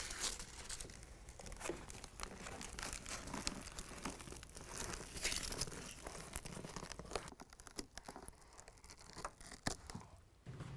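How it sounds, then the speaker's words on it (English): Backing being peeled off a continuous Velcro strip while fitting a bedliner in a 2019 GMC Sierra Crew Cab truck bed, a faint, close, uneven crackling and tearing that runs steadily with no talking. "I'm going to peel this back, run my Velcro all the way down"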